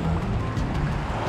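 Strong water surging and rushing at a natural rock pool in Aruba, a loud, steady broadband roar of churning surf close by.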